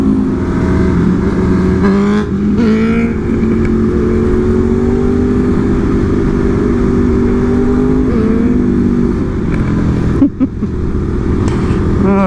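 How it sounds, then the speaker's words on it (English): Motorcycles near a 2026 Aprilia RSV4 gathering, engines idling and blipping the throttle with rising revs, a steady loud engine drone filling the whole stretch with faint talk underneath. "They're kind of jumping on the throttle a little bit."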